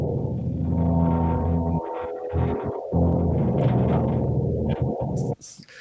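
Designed metal bending sound effect for a game physics collection: a sustained, groaning, resonant metallic drone that briefly cuts out and resumes, then ends in a sharp burst, with no voices.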